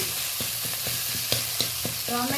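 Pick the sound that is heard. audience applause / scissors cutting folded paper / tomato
tomato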